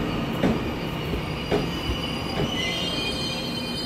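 A ten-car EMU900 electric multiple unit commuter train pulling out of a station, wheels squealing and rails clacking with a steady rolling rumble and rhythmic joint knocks, close by and without talk.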